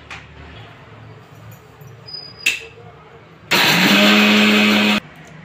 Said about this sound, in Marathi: ते आपण आता मिक्सर मधून काढून घेऊया।